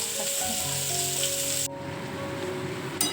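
Meat stew sizzles and bubbles in a pan, a steady close frying hiss with faint tonal hum in the background and a soft clink near the end, no talking.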